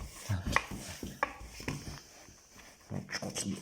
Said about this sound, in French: Donc, je continue à mélanger un petit peu.